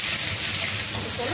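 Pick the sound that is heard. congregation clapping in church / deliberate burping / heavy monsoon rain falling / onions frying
onions frying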